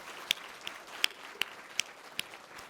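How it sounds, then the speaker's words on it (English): At a university address, a handful of people clap in sparse, distinct claps spaced about a third of a second apart, quiet and fairly distant in a large hall. "you can clap for her"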